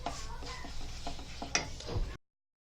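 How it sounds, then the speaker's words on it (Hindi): A spoon scraping and stirring flour and semolina as they roast in a pan for Konkani shankarpali, with soft irregular scrapes and light sizzling, close and steady, before cutting off. "अभी उसको अच्छा चला चला के, चम्मच चला चला के अच्छे से भुनेंगे उसको"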